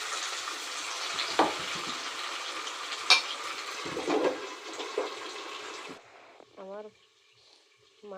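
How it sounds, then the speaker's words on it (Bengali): Silver carp pieces frying in hot oil in a heated wok, a loud steady sizzle and hiss with occasional stirring clatter, dropping away near the end as a voice speaks briefly. "এবার তেল দিয়ে নেব গরম হয়ে গেছে এবার এই মাছ ভাজাটা দিয়ে দেবো"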